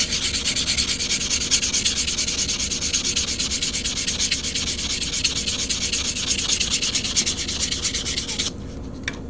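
A quarter coin ring is sanded with a steady, loud, close rubbing hiss that runs evenly for several seconds before cutting off at the end.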